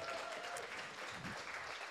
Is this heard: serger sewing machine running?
no